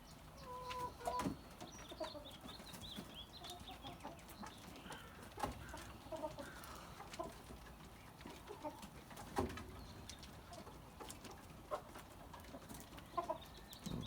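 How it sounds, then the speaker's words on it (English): Free-range chickens cluck and a rooster calls at close range, with scattered bursts of clucking and squawks over a steady farmyard background, no voices. "Happy free range chickens."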